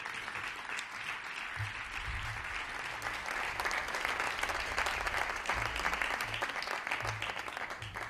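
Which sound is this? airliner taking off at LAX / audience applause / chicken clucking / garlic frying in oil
audience applause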